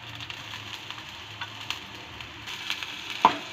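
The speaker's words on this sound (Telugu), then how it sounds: "వీటన్నిటిని కూడా ఆయిల్లో కాస్త ఫ్రై చేసుకోవాలి" Onions, garlic and green chillies frying in oil for a potato sandwich filling, a steady faint sizzle with soft stirring clicks throughout, no voices.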